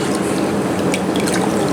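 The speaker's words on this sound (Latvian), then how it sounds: "šis ir tekošs ūdens" Tap water runs steadily into a kitchen sink during goat cheese preparation, a close, loud splashing stream with small bright drips breaking through near the end.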